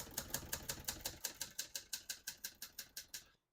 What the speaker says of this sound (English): We're going to keep that on single for now and finish typing.